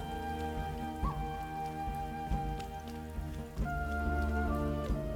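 Rain patters steadily in Expeditions: Viking, a constant wash of drops under a droning musical score, with no voices.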